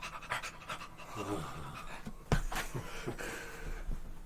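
A dog pants in a video game, quick rhythmic breaths close to the listener, with a few louder snorts and breathy bursts partway through, and no speech.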